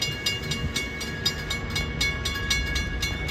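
An Amtrak passenger train led by two locomotives, hauling a baggage car, three sleepers, a dining car, a cafe and four coaches, rumbles steadily past in Florida, with rhythmic wheel clatter over rail joints throughout.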